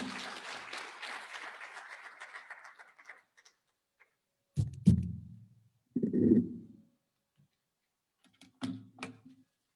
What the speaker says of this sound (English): A round of applause, tafadhali.